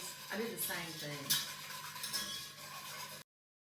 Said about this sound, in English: I'm just going to cook this until it thickens, about 10 to 12 minutes, stirring constantly